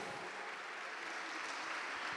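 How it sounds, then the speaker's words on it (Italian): Audience applause at an evening of a singing competition, a steady even wash of clapping that is fairly faint and distant throughout the short stretch. "Facciamole un grande applauso, Andrea Schiano."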